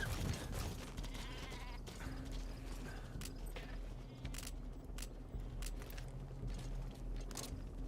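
Goat bleats ring out in Metal Gear Solid V: The Phantom Pain, brief bleating calls over a steady game soundscape of hoofbeats and ambient noise, fairly quiet overall with no talk.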